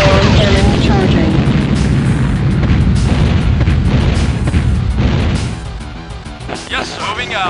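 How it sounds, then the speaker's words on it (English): Heavy booming blast rumbling loudly through the first five seconds of a Command & Conquer GDI battle, the ion cannon's discharge fading into quieter crackling, with brief in-game voice chatter. "Ion cannon charging."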